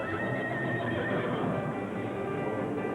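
At a Denver Broncos home NFL game in 1995, the team's horse mascot whinnies amid a steady, dense crowd roar, the neigh partly buried in the constant stadium noise.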